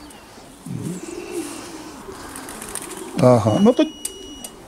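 Racing pigeons coo low and close in a couple of throaty bursts, while a person talks briefly over them.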